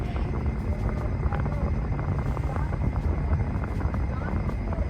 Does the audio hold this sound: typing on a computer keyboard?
no